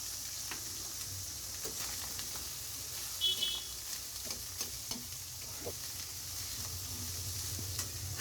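Leftover cooked rice frying and being stirred in a pan with salt, a steady sizzle running throughout with scraping stir strokes and a brief beep partway through; no one speaks.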